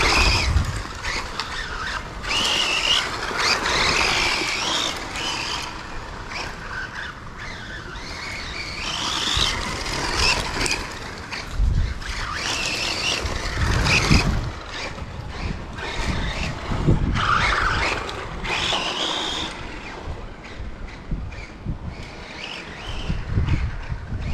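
A DB8SL RC buggy races around a dirt track, its high-pitched motor whining and surging loudly through repeated accelerations and passes, with gritty tire scrabble and skids throughout and no talking.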